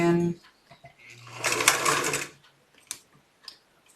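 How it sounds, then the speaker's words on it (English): Sewing machine stitching a plain dart in a fabric sample, a steady burst of needle clatter lasting about a second, with a few light clicks before and after. "It is a permanent stitch, so I will be sewing a few stitches, back stitch,"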